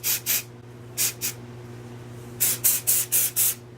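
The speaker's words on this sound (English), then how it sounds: "spraying from there, you're gonna get full coverage of every curl that you just did" Short bursts of aerosol hair spray misted onto freshly styled curls, about ten quick hissing puffs in uneven groups, close and loud with no talk.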